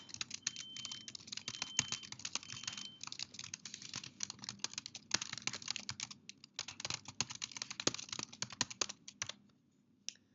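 A job summary is typed on a computer keyboard in a rapid, steady stream of close key clicks lasting about ten seconds, trailing off into quiet at the end.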